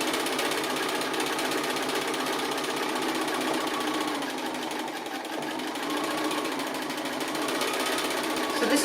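A sewing machine stitches an appliqué, giving a continuous rapid mechanical whirring and clatter up close, holding steady with a slight dip midway.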